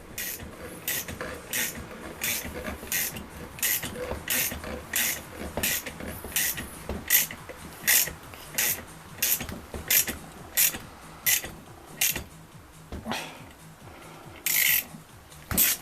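A head bearing being tightened onto the bottom yoke of a ZX12R motorcycle, heard as a steady series of close, evenly spaced ratcheting clicks and short metallic rasps repeating over and over with only brief pauses.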